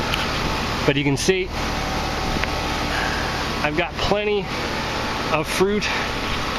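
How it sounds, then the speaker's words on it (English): Steady broadband hum of an air conditioner running in a home garden, a constant background drone with a person speaking over it in short bursts. "I apologize for the noise, the air conditioner kicked in."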